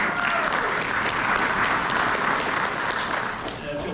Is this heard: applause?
yes